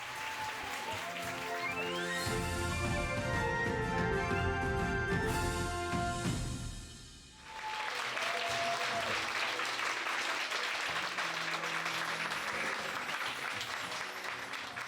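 Music plays for several seconds, dips, then gives way to dense, sustained audience applause welcoming a speaker to a lecture stage in Jinju, full and even to the end.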